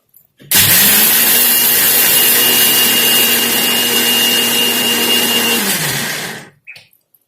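A mixer grinder whirs loudly and steadily for about six seconds, grinding groundnuts with chili powder for a South Indian recipe, then spins down and stops with a few faint clicks after.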